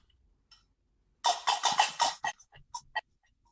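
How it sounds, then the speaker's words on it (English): A quick flurry of bright metallic clacks from qarqaba metal castanets, a dense burst followed by several sparser clicks, close and alone in a quiet room. "Samir, if you could move the microphone or stand behind the microphone with the Qarqaba so that we could hear the castanets"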